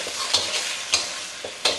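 Egg frying in a pan for Thai fried rice with pork, a constant sizzle broken by three distinct scraping strokes of the spatula, close and fairly loud.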